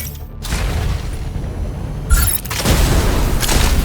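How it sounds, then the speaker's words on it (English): Gauss cannons firing from a mech in the video game Mecha Break, heavy booming blasts and a rumbling low roar, with a sharp loud shot near two seconds followed by sustained thunderous bursts, alone without talk. "Fire your Gauss cannons at the target during a boost attack."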